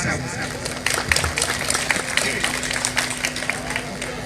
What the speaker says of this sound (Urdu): آپ دوستوں کی بھرپور تالیوں میں جناب شیخ نثار احمد صاحب